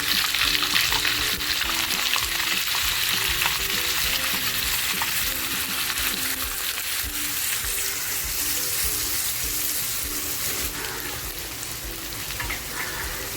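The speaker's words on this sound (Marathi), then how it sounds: "तेल छान तापलं आहे किसलेला कांदा टाकते" Grated onion hits hot oil in a pan for a spicy fish masala, giving a loud, steady, dense sizzle that holds evenly throughout with no talking.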